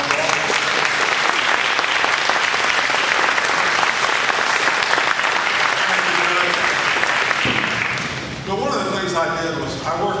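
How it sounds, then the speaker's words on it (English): Steady, dense audience applause fills a courtroom-style judicial candidates' debate venue in honour of a retiring judge, loud and sustained for about eight seconds before tapering as a voice begins speaking over the thinning claps. "Let's give him a big round of applause."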